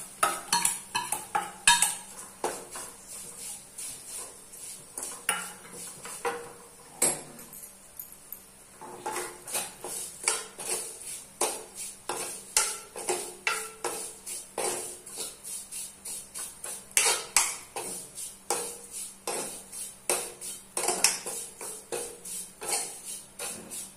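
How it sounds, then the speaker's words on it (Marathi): Wheat vermicelli being roasted in a pan with cloves for kheer, heard as continuous close metallic scraping and stirring of a spoon against the pan in quick irregular strokes, with no talking. "आता मी शेवया भाजून घेते।"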